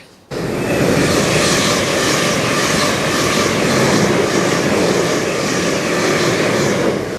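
A train rattles through a station on the Greater Anglia network without stopping, starting abruptly and roaring loud and close as a broad, steady rumble for several seconds before cutting off.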